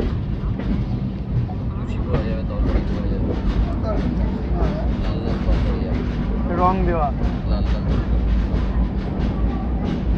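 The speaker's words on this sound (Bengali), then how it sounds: "আপাতত ট্রেন খড়গপুর ঢুকছে" The Dhauli Express rolls into Kharagpur station with a steady low rumble and rhythmic wheel clatter, and brief squeals rise partway through while a person speaks over the noise.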